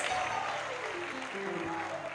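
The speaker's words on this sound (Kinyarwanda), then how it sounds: "Let's clap our hands." An audience claps hands through a church youth gathering, a continuous mid-level patter of many hands with a voice talking faintly underneath.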